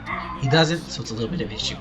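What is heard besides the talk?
neighbors' dogs barking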